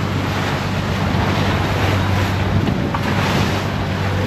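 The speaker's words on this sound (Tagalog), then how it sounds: "Talagang malakas yung alon," Strong, large sea waves wash steadily around a fishing boat out at sea in the northeast monsoon season, a loud continuous roar of water mixed with wind buffeting the microphone, with no voices.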